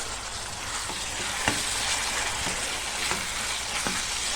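Boiled ambadi greens with garlic sizzle and fry steadily in a pan, with a few soft scraping stirs punctuating the continuous close-up hiss; no one speaks.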